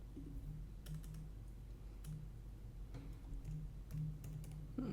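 Keys clatter on a computer keyboard in short irregular bursts, quiet and close, over a steady low hum with no talking.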